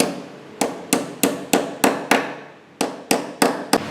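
Hammer blows drive a Vespa VBB steering bearing casing into place, about eleven sharp metallic strikes in a steady rhythm with a short pause midway, loud and close with no talking.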